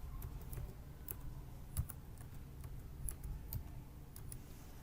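Faint, sparse computer keyboard typing, a few soft scattered key clicks over a low steady background hum.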